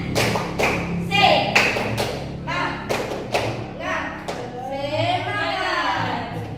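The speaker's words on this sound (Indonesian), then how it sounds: "Dan siap tepuk semangat." Children doing a spirit clapping chant in a classroom, a run of loud, sharp rhythmic claps and thumps in a patterned sequence, with young voices chanting along between the beats.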